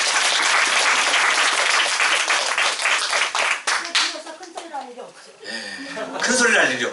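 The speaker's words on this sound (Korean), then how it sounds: "이제 박수 한번 해야 돼" Church congregation applauding loudly during a sermon, a dense wash of clapping that fades after a few seconds as voices and laughter come through, then swells again briefly.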